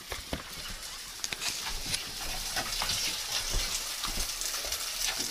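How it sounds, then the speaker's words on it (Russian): Steady crackling and sizzling of food frying in a pan, close and continuous with sharp pops throughout. "Ой, Настюшка, жарит."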